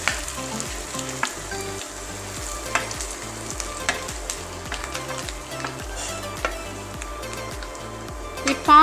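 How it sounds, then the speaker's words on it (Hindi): Grated raw mango sautéing in hot oil for a South Indian-style thokku pickle, a steady close sizzle with a regular rhythmic scraping of stirring running through the whole stretch, no voices. "इसको मैंने हमें तेल में थोड़ा सा सॉट करना है"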